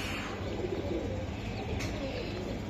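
Racer, Pakistani Teddy and Budapest pigeons cooing at a dealer's loft in Dhaka, a soft low continuous cooing with faint chirps against a steady background hum.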